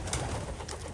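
A pigeon coos softly inside a pigeon loft, a low murmuring call heard up close against steady background noise.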